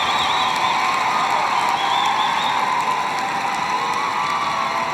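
A large crowd at a herding group dog show cheers and applauds continuously, a loud, sustained roar with scattered shouts and whistles as an Old English Sheepdog is shown.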